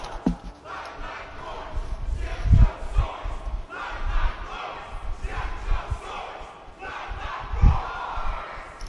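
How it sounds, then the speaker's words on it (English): A crowd of spectators in the video game Honkai: Star Rail cheering and shouting in a steady roar, with a few louder swells and thumps rising out of the din. "there's still an audience cheering us on"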